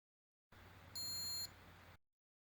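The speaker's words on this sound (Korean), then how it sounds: "파음에 해당되는 부저음이 잘 표현되었습니다." A single steady high-pitched electronic buzzer tone, an F note at 1397 Hz from an Arduino, sounds for about half a second, clean and sustained, then cuts off abruptly.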